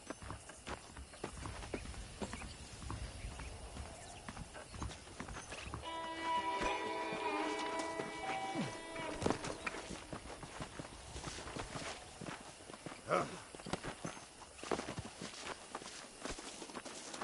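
Video game horse hooves clip-clop in a steady walking rhythm, with a brief neigh partway through and rustling movement around them, in Red Dead Redemption.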